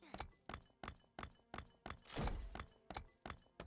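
Ore blocks being broken in Roblox Bedwars: a regular series of sharp, hollow thunks about every third of a second, with a brief crumbling shatter midway.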